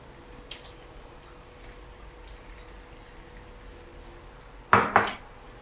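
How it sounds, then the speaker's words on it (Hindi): A utensil clinks against a pot as pumpkin is mixed into chicken curry: one brief metallic clink early, then a louder double clatter near the end, with quiet in between. "कद्दू डाल के इसको मैं अच्छे से मिक्स करूँगी"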